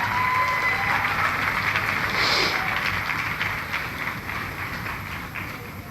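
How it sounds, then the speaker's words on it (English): A large audience at a business event gives loud, dense applause that stays steady for several seconds and eases off slightly toward the end. "let's give a big round of applause to ShopUp."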